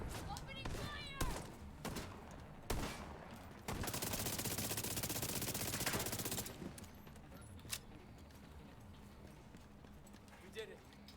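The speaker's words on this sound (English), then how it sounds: "Opening fire!" Gunfire bursts in The Division 2, a few sharp shots early then a sustained loud volley of several seconds, with voices talking over the fighting.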